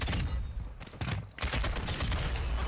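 Dense, continuous enemy gunfire in a shooter video game, loud and sustained with rapid overlapping bursts and a brief lull near the middle.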